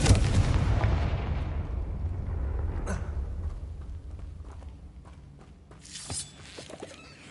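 A Confringo explosive spell in the video game Hogwarts Legacy bursts with a heavy boom that rumbles and fades over several seconds, followed by a smaller crackling burst near the end.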